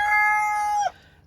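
A single rooster crows in a chicken coop, a long drawn-out call that rises and holds for nearly a second before cutting off sharply, loud and close with no other sounds around it.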